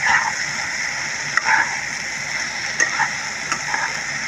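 Masala with garlic and ginger paste fries in oil in a pan, a close, steady sizzle broken by a few scraping stirs of a spoon, no talking.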